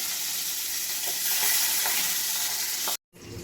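Prawns sizzling in hot oil in a pan, a steady bright crackle and hiss running close and continuous, cut off by a brief silence near the end.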